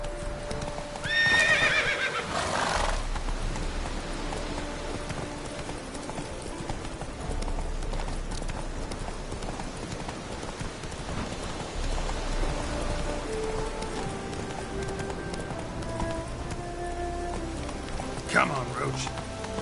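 The horse Roach in a video game neighs and clip-clops at steady pace through a long stretch, with rain pattering on surfaces and a voice speaking over the hooves.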